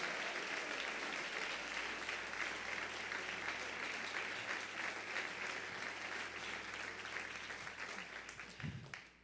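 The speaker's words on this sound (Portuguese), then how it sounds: "Se você vai aplaudir, faz barulho, dando glória." A church congregation claps and cheers in sustained, dense applause filling a large room, steady and loud throughout before tapering off at the end.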